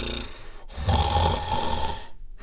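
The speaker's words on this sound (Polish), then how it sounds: "Słoń jeszcze spał, głośno przy tym chrapiąc." An elephant character in a children's audio play snores loudly, a single long rumbling snore between quiet pauses, close and prominent.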